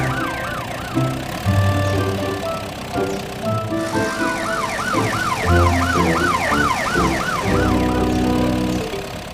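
A cartoon police car siren wails, rising and falling repeatedly over steady engine rumble, loud and close, with a second siren tone layered in.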